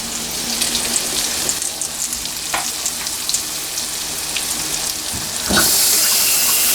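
Green tomatoes fry in a pan with a steady, loud sizzle. A brief scrape or stir sounds near the middle, and the hiss grows brighter and stronger toward the end.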